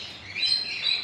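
Birds at a nature park recreation area give a brief high chirping twitter, a short bright burst lasting about a second.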